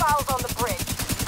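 Automatic AK rifle fire in the video game The Division 2, a rapid, steady stream of loud shots over about a second, with in-game voices and effects layered over it.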